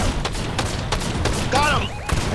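A big gun fires in a chaotic video game fight, several sharp bursts spaced about a third of a second apart, with a voice shouting over them.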